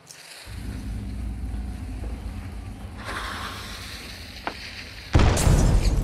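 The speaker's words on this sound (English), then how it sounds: "I'm throwing a frag out there." In a shooter video game a frag grenade goes off, a low rumbling boom under continuous background noise, followed by a sharper, louder blast burst near the end.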